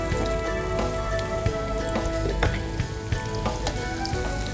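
Chopped onions frying in a pan, a steady close sizzle with scattered crackles and a few scraping stirs, no talking.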